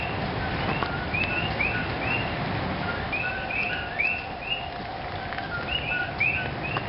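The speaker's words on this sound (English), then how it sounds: "They're all frogs. They almost sound like birds," Invasive frogs near a remote black sand beach call in a dense, bird-like chorus. Repeated short chirping notes overlap continuously above a steady background hiss, with no voices.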